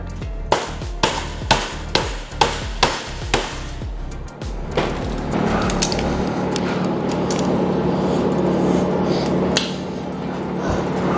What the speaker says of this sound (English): Get my trusty hammer here.